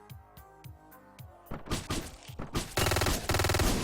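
Machine gun fire in a shooter video game: a few isolated thuds give way to rapid bursts of dense automatic fire that grows louder and continuous by the end.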